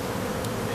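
Honey bees buzz in a dense, steady drone close up on the hive comb, unbroken for under a second.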